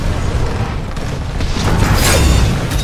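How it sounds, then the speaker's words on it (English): An exploding stalker robot in Titanfall 2 Frontier Defense: a loud, heavy boom that swells and rumbles through the low end amid ongoing mechanical battle noise, with no talk. "Be careful of stepping on those stalkers, pilot. They explode."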